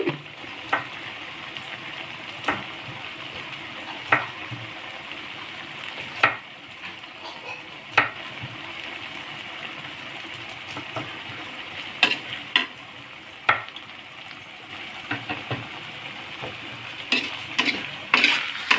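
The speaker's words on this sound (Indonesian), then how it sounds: "Aduk-aduk biar rata antara gula, garam, dan bumbu menyatu." Steady low sizzling of sugar, salt and spices stirred in a frying pan for Betawi pesmol fish, with occasional sharp scrapes and taps of a utensil, close up and alone.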